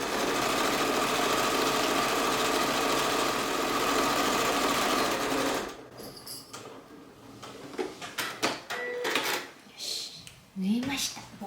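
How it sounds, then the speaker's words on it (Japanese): A sewing machine stitching a fabric bag runs steadily with a dense mechanical whir for about six seconds, then stops, leaving quiet handling noises and someone speaking softly. "ちょっと先行きがもう終わりが見えそうになったらゆっくりスピードで縫いたいと思います"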